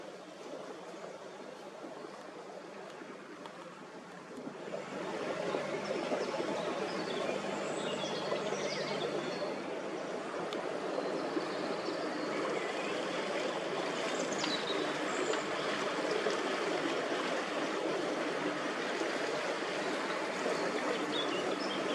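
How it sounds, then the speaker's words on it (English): A boat glides along the Norfolk Broads near Wroxham and Horstead, with water lapping and swishing steadily against the hull in a continuous close wash that strengthens after the first few seconds, and faint bird calls in the background. "The sound of the water against the boat as we glide across"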